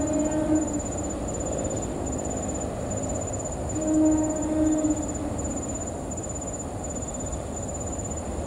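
The Serayu passenger train rumbles past steadily with a low, continuous roar, a faint high tone hanging above, and insects chirping in the background.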